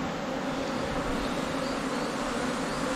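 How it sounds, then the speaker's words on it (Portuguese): Swarm of Apis honey bees buzzing steadily inside an opened hive box during a tree-hollow rescue, a dense, continuous hum that stays loud and close throughout with no talking. "Muita abelha."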